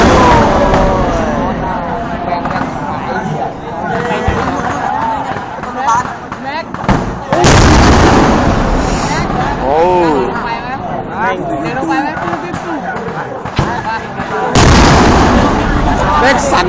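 Repeated gunfire and heavy booms from a military exercise at Wang Nam Khiao, loud and close, with sharp bursts recurring through the scene while people talk over and between the shots.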